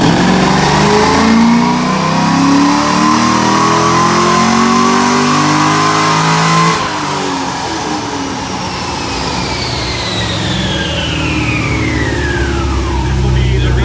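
A drift Corvette's engine revs hard on a dyno, a loud sustained roar climbing through the run in third gear, then falling away in a long descending whine as it winds down.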